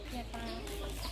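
A rooster and long-tailed bantam chickens near a Thai temple give short, faint clucks, heard softly in the background under people talking.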